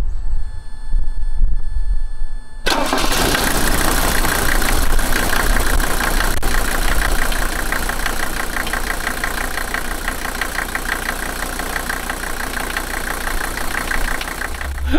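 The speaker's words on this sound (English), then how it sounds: "I think you viewers can see just by the way this engine starts, has really strong bark to it" A car engine cranks and fires up loudly after a brief quiet moment, then settles into a steady, throaty idle close by.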